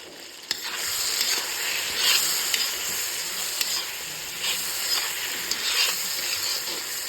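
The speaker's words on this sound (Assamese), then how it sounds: "ফ্ৰাই কৰিব অলপ।" Pork and mustard greens sizzle steadily in a hot pan, a dense close frying hiss broken by a few sharp spatters and the occasional scrape of stirring.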